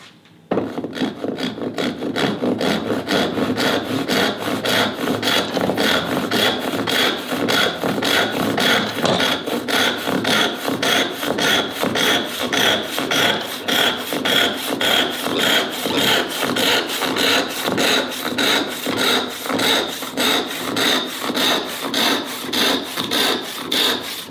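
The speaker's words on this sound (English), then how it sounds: "I'm going to use a handsaw this time because I've got to go further." A handsaw cutting through wood while shaping a plane tote, with long, even push-pull strokes in a steady rhythm. The sawing is close, loud and continuous for about twenty seconds.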